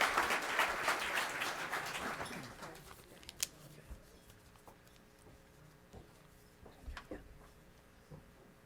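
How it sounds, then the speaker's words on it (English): Audience applause at a city State of the City address swells briefly as a dense patter of clapping, then thins out within a couple of seconds to scattered, faint claps and quiet room noise. "let's give them all a round of applause"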